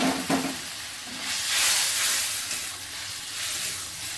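Fish and red amaranth curry hits a hot pan and sizzles, a steady hissing fry that swells loudly midway, with a brief clatter of stirring at the start and no talking.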